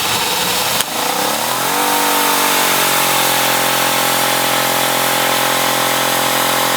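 A Greenworks PRO 2200 electric pressure washer with a 15-degree nozzle starts up after a click, ramps into a loud, steady motorized hum and spray hiss as it blasts a driveway, with no talking.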